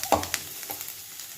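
Cashews and turmeric fry in a pan for sago upma. A short burst of low sizzle with a couple of stirring clicks, close and fairly faint, with no voices.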